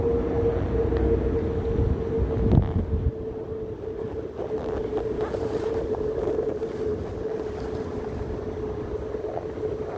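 Steady wind buffets the microphone with a low rumbling roar, alongside a constant engine-like hum throughout.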